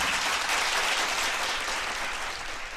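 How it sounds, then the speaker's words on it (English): A studio audience claps loudly in a short, dense burst on a radio talk show, tapering slightly toward the end. "I want to accept the applause."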